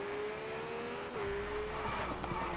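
Rally car engine in the racing video game V-Rally 4, a steady droning tone that drops in pitch midway as the car shifts, with some tire scrubbing toward the end, moderately loud and without speech.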